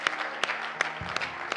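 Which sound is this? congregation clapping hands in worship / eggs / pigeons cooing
congregation clapping hands in worship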